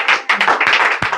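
A church congregation claps in acclamation during a service, several close, loud bursts of clapping in quick uneven rhythm with brief gaps between them.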